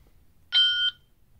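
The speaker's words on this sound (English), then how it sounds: "You will hear a beep, then you'll know you're on the number 0." A single electronic beep from a PAX A920 payment terminal in accessibility mode, steady and moderately loud, lasting under half a second against a quiet background.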